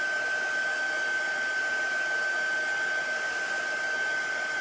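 A heat tool dries chalk paste with a copper shimmer in a Christmas vintage truck craft, giving a steady, continuous blowing whir with a fixed high whine throughout, close and unbroken, with no talking.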